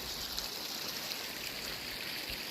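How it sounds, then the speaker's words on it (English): Water flows and trickles inside a cold colonial-era smugglers' sea cave, a steady hissing stream with faint gurgles, continuous and fairly close, without voices. "There's water coming out everywhere."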